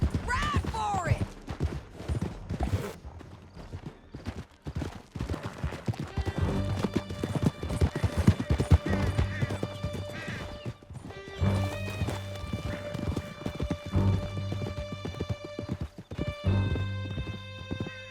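Horses gallop in Red Dead Redemption 2, with steady clip-clopping hooves, an occasional whinny and scattered distant gunshots running throughout alongside a rhythmic musical score, as voices call out over the action.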